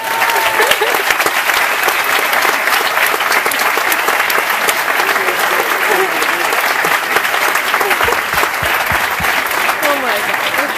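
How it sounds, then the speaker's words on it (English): An audience claps in a dense, continuous round of applause that stays loud and steady throughout, with faint voices mixed into the crowd noise. "Let's give them a big round of applause."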